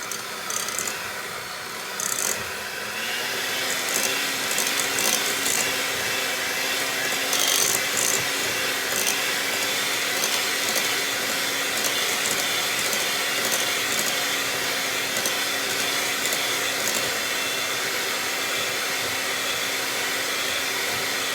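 An electric mixer whirs steadily while beating cream cheese, icing sugar, lemon juice, lemon zest and vanilla in a bowl, a continuous close motor hum with brief scraping clicks against the bowl.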